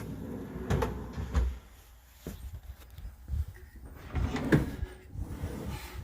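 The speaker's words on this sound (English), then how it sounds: "A nice deep full extension drawer for pots and pans, all dovetail jointed." A deep, full-extension dovetailed wooden drawer in a Dodge Sprinter camper van slides open and shut several times with soft thuds and rolling scrapes, close by, with quiet gaps between movements.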